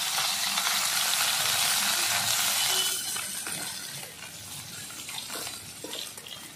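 Mourala fish frying in a pan of oil, a loud, steady sizzle that is strongest at first and softens partway through, with faint clinks and stirring under it.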